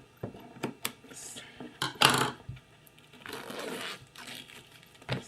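An Apple wireless keyboard box is opened, with sharp cardboard clicks and taps followed by crinkling and sliding of a plastic cover, close and fairly quiet.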